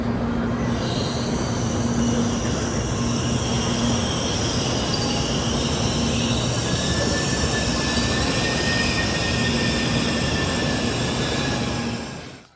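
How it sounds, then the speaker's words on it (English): A Shinkansen N700 Supreme bullet train at a station platform, heard as a loud, steady rolling rumble with sustained high wheel-squeal tones that runs unbroken for about twelve seconds before cutting off. "headed down to the platform to await our bullet train to Osaka"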